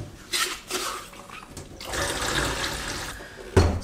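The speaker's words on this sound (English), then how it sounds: "I will pour it back in my bottle because you can reuse it." Used black-and-white film developer poured from a developing tank back into a storage bottle for reuse at home, a steady liquid splash and trickle lasting several seconds, close and alone with no talk.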